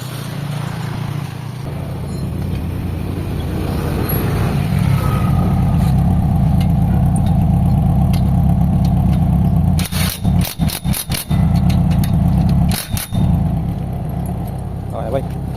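A Mitsubishi Lancer with a gear shift that will not engage sits running in Rosales, Pangasinan, its engine droning steadily at mid pitch, with a few brief crackling bursts near the end.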